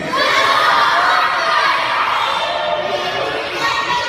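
A live show audience yells together in one loud, sustained collective shout of mixed voices, starting abruptly and holding for several seconds before tapering slightly.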